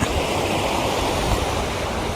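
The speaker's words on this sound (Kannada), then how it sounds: "ಇಲ್ಲಿ ನೋಡಿ, ಇಲ್ಲಿ ನೀರು ಹರ್ಕೊಂಡು ಹೋಗಿ ಸಮುದ್ರ ಸೇರತೈತಿ." Stream water runs into the sea at Arambol Beach in Goa, a steady broadband rush and wash with low surf rumble, continuous and close, with no voices.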